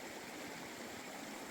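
River stream rushing along a hiking path toward waterfalls, a steady broadband wash of flowing water, close and constant with no voices.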